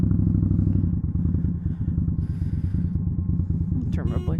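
An Indian Scout Bobber motorcycle rumbles nearby with a steady, throbbing low engine note that holds throughout, ending with a short bright clatter.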